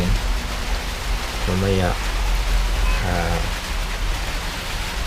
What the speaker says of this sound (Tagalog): Hanggang ngayon umulan pa rin.